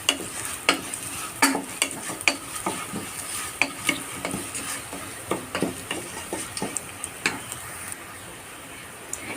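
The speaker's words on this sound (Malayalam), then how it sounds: "നന്നായിട്ടൊന്ന് ഇളക്കാം" Rice with turmeric is stirred in a pan while cooking a virinji rice dish. A spoon scrapes and knocks against the pan in an uneven rhythm over a soft sizzle, close and fairly quiet, with no talking.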